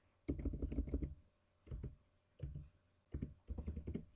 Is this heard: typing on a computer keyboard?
yes